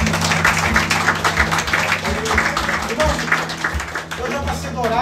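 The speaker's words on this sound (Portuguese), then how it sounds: "Dê uma salva de palmas ao Senhor" Congregation clapping at a church service at Igreja de Nova Vida do Catete, a dense, steady wash of applause over sustained organ or keyboard tones, with voices mixed in throughout.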